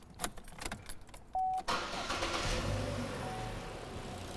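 Keys jangle, then a car engine with an exhaust leak and a crankshaft position sensor fault cranks briefly with a short beep and catches, settling into a steady idle, fairly faint and close.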